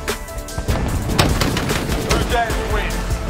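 RAM-7 assault rifle fire in Modern Warfare, played on a 10v10 map: rapid, punchy bursts of shots crack close and loud over a continuous backdrop of gameplay noise.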